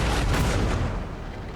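Cannon artillery fire in the Napoleonic battle game Napoleon Total War, a heavy booming blast that rolls out and decays into rumbling noise, loud and close with no talking.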